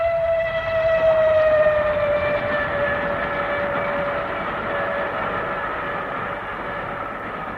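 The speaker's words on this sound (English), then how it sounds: "Bad enough to have the trains banging under one's window all night long." A train rumbles past close beneath a window as a radio drama sound effect, its whistle sounding a long sustained tone over steady heavy rolling noise that fades slightly toward the end.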